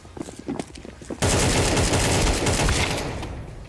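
AK rifle fire in a video game: a few scattered shots, then a sudden sustained burst of rapid automatic gunfire, loud and close, tailing off slightly at the end, with no talk.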